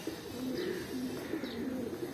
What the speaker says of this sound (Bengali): এটা পুরো ধাড়ি পায়রা, কিছু বাচ্চা ছাড়া আছে